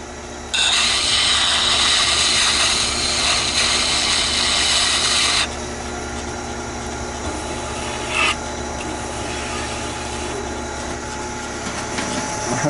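An oval skew chisel sharpened against an abrasive for a wood-turning job gives a steady, close scraping rasp for about five seconds, then stops, leaving quiet shop noise and one brief scrape near the end.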